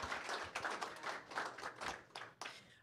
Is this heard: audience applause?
yes